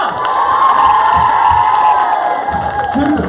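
A crowd of children cheers and shouts loudly and continuously for class 6A at a school event, a dense sustained roar with a rising whoop near the end.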